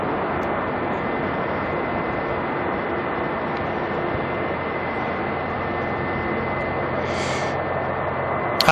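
China Eastern jet engines run at Auckland at night, giving a steady, loud, broadband jet roar with a faint whine and no rise or fall.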